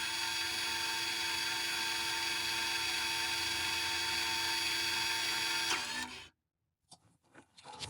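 Electric motor of a Lexus RX350 rear parking brake unit whirring steadily as it retracts, a close, continuous high-pitched drone that cuts off abruptly near the end, followed by faint handling noises.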